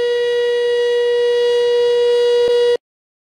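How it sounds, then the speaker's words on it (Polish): A fire station siren used to summon volunteer firefighters sounds a steady, loud tone that holds for almost three seconds before cutting off abruptly into silence. "W remizach Ochotniczej Straży Pożarnej w Polsce zwykle znajduje się też syrena do zwoływania strażaków w razie alarmu."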